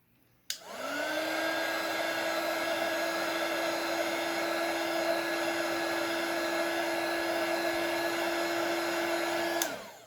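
A heat blower runs close by, warming the back of an iPhone 7 to soften its glue, with a steady loud whirring hum that clicks on, holds an even pitch for about nine seconds and shuts off.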